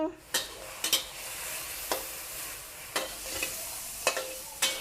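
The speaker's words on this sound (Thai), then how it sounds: "เจียวให้น้ำมันหมูออกมานะ" Pork fat with a splash of water rendering in a pan for baked shrimp with glass noodles, a steady sizzle punctuated by regular sharp scrapes of a utensil stirring it, near and with no voices.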